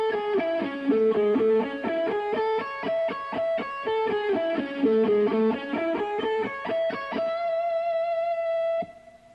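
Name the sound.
electric guitar shred lick played slowly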